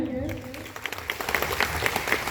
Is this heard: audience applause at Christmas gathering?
yes